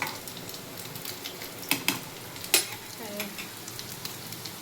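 Food sizzles in a frying pan up close, broken by several sharp scrapes and clatters of a spatula stirring, louder bursts standing out over the steady crackle.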